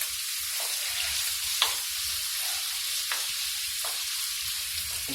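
Shrimp frying in a pan for shrimp and chicken fried rice, a steady close hiss of sizzling oil with occasional light scrapes and clicks as the pieces are stirred, no talking.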